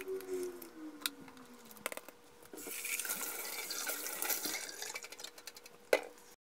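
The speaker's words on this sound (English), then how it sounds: "I'm going to pour it into a different container" Liquid for PCB etching poured from a tall container into a different, wider one, close-up trickling and splashing that builds into a steady stream, with small clinks of handling before and after.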